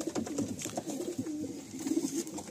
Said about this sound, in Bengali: এই পায়রাটা দেখুন বন্ধুরা, গিরিবাজ পায়রা, এত সুন্দর স্ট্যান্ডিং, দুর্দান্ত পায়রা